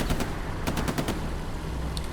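MP-40 submachine gun fire in the World War II shooter Hell Let Loose, a fast rattling burst of shots over dense battlefield noise, followed by more distant scattered fire.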